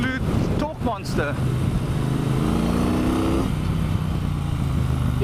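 A Triumph Bonneville Bobber's engine pulls hard under acceleration, a steady low rumble with rising harmonics, mixed with wind rush, while a rider talks briefly near the start.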